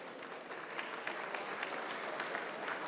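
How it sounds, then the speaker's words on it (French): Sustained applause from an awards-ceremony audience at an economic awards night, steady dense clapping with scattered sharper claps throughout, no voices above it. "On les raccompagne sous les applaudissements, s'il vous plaît."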